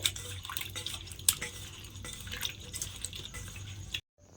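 Water splashing and dripping as potatoes are washed by hand in a bowl in a home kitchen; close, soft sloshing with a few sharper drips, continuing steadily before cutting off.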